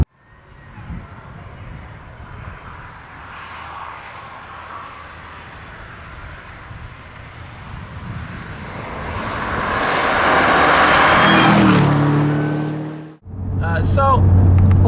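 A 2009 Cadillac CTS-V's engine roars while the sedan is driven hard through corners, rising to a loud, sustained drone that swells steadily before a brief dip and a resumed, near-field rush.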